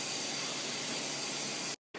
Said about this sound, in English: you can press the release button just to make that pressure release faster